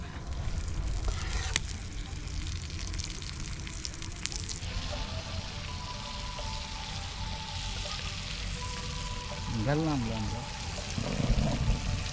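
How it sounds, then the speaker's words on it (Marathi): Steady sizzling of masala frying in a hot pan outdoors by a river, continuous and close, with occasional stirring clinks and a brief voice partway through. "सुरुवातीला आपण आधी मसाला शिजून घेणार आहे"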